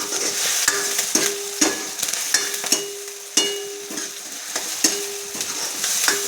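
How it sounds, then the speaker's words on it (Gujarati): Curry leaves hitting hot oil in a pan for a green mung bean curry, giving a loud, continuous sizzle with regular sharp clinks and scrapes of a spoon against the pan. "આપણે આ કરી પત્તા હમણાં નાખીશું"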